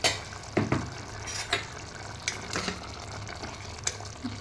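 Spoon stirring mutton and raw mango curry in a pan, giving several scraping, clinking strokes over a steady low sizzle, close and moderately loud.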